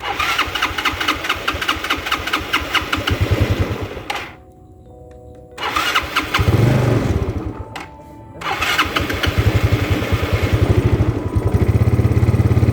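A Yamaha Mio Sporty scooter that has sat unused turns over repeatedly on its starter, chattering bursts broken by short pauses, then catches and settles into a close, steady idle.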